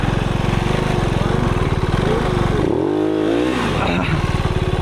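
Dirt bike engine, a KOVE 450 Rally or KTM 450 XCF-W, revving loud and close during a muddy trail ride, a steady throaty drone rising into a sharp rev and falling back.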